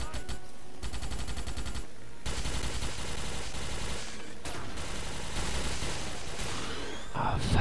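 Starship Troopers video game gunfire comes in dense rapid bursts of machine-gun fire separated by short pauses, loud and continuous across the scene.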